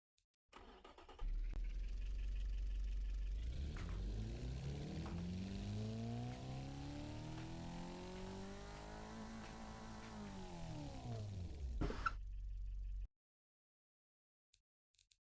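A car engine in the game Automation starts and then revs, climbing in pitch and falling back over about ten seconds before cutting off abruptly into silence.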